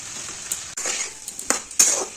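A spoon scrapes and stirs through a pan of cauliflower stalk curry with cumin, turmeric and salt, with a soft sizzle underneath and several sharp metallic scrapes and clinks, close up and with no talking.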